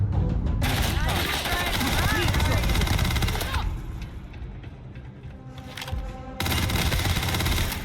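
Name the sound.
gunfire in the video game Starfield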